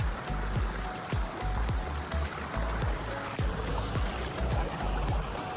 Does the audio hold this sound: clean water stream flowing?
yes